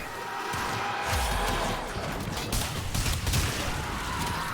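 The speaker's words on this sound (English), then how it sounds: "It is a solid killing full auto shotgun of death." A full-auto Incarnon Boltor Prime shotgun fires in Warframe, a dense, continuous stream of rapid shots held steadily for several seconds, loud and close amid game effects.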